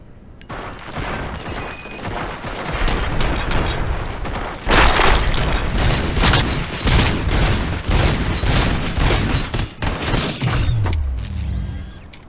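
Heavy gunfire in the video game Robocop Rogue City: loud, dense volleys of rapid shots with booms and mechanical clanks, building to a sustained barrage before tapering off.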